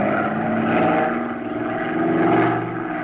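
A propeller airplane engine drones steadily in flight, a loud continuous hum that swells and fades slightly, with no voices.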